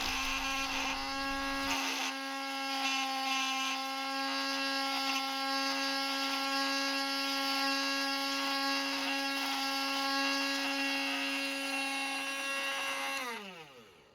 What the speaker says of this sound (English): This is a cheap drill and there's lots of end float